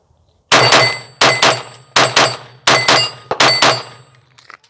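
Glock 44 pistol fired in five quick pairs of shots at a range, each sharp crack loud and close with a short ringing tail, no talking.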